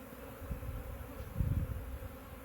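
Honeybees from a swarm buzzing inside a bucket, a low, fairly quiet hum that swells in two brief surges, with no voices.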